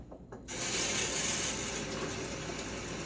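Tap water runs steadily into a sink, rinsing the threads of a 1934 Gillette Aristocrat safety razor, a close, continuous hiss that starts abruptly after a few soft clicks.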